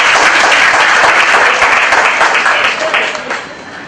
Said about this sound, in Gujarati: ફરીથી એકવાર જોરદાર તાળી થઈ જાય.